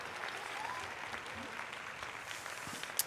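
Applause from a crowd with scattered cheers, steady and fairly close throughout, with some voices mixed in.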